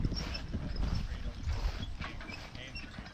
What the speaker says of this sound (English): So Jim took Bryn out for a little ride with the horses.